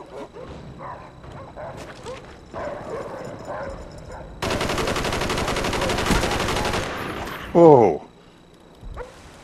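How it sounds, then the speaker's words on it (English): Attack dogs barking and biting amid heavy gunfire in a multiplayer shooter video game; sustained automatic fire dominates, with snarling and a sudden loud bite near the end while players talk over it. "Those dog bites sound vicious."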